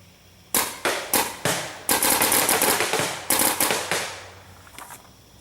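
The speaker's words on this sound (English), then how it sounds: "I'm going to fire a couple off so you can hear what it sounds like" A Proto Reflex Rail paintball marker fitted with a Tech-T L7 bolt fires in semi-automatic mode with an 18 millisecond dwell, a string of about a dozen sharp close pops, some spaced and some in quick bursts.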